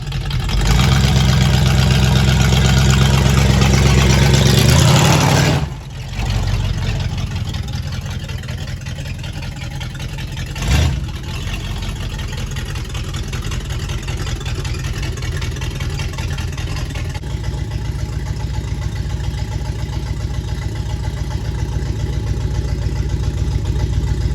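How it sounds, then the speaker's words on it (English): A 1985 Oldsmobile Cutlass V8 runs steadily and a little loud, with a brief rev burst in the first five seconds before it settles to a continuous rumbling idle, heard alone without talk. "Being a little loud, she's a pretty decent unit. Runs pretty good."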